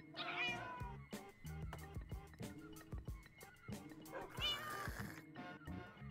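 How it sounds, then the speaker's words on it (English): Angry cats in the Minecraft video game meow and yowl repeatedly and loudly in quick, overlapping bursts over a busy bed of game sounds. "God damn, the cats are angry at that thing."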